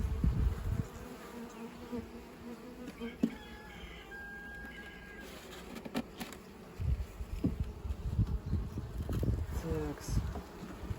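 Honeybees buzz around a hive being moved into new boxes, their hum rising and falling in waves, with some soft handling noises and faint voices in the background.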